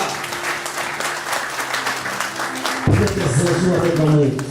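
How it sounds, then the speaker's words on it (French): A church congregation claps steadily and fairly loudly for several seconds during a worship service, while a low voice and music join partway through. "Applaudis pour Dieu"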